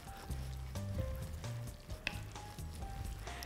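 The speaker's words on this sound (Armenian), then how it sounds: "Լավ խառնում ենք" A spinach and cheese ravioli filling being stirred in a pan gives a soft sizzle with light scraping, quiet and close, under a low musical background.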